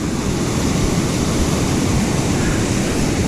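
A waterfall on Robinson Creek where rainbow trout spawn roars loud and steady, a dense unbroken rush of falling water close by.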